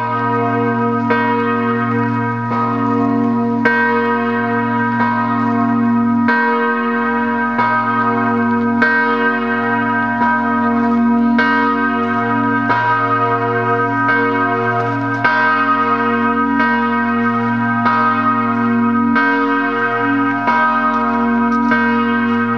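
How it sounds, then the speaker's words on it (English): Memorial church bells at the Dachau concentration camp site ringing continuously, with repeated resonant strikes and long, layered overtones sustained at steady volume, heard without talk. "The bells you hear in the background ring as a memorial to those who lost their lives in the Holocaust."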